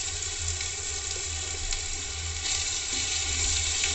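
Carrot going into a pan of frying onion, capsicum and green chillies: a loud, dense, continuous sizzle close by, steady throughout with faint stirring underneath.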